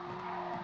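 Race car tyres squeal under hard braking in a racing video game, a sustained tonal screech over engine drone lasting the whole short moment, with no speech.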